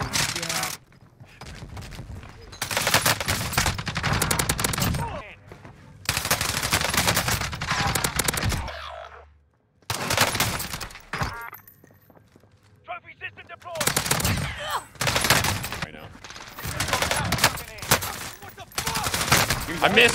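Modern Warfare gunfire hammers out in loud, dense automatic bursts separated by short pauses, with voices talking between and over the shooting.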